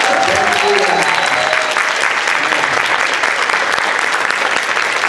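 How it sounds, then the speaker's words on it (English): Audience applause at a convention panel for an actor, a loud, dense wash of clapping that fills the room steadily from start to finish, with some voices and cheers mixed in near the beginning. "Let's give him a round of applause."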